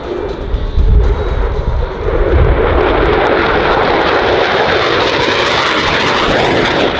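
A RAAF F/A-18F Super Hornet makes a high-speed pass at over 1,000 km/h at the Avalon Airshow 2017, a loud, close jet roar that swells and holds as a sustained, broadband blast.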